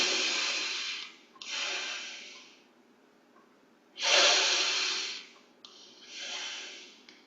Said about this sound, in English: So we will do 21 breaths.